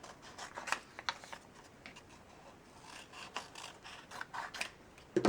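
Scissors snip and rustle through paper while cutting out a bunny ear for a paper Easter basket craft, with soft, irregular close-up cuts and no talking.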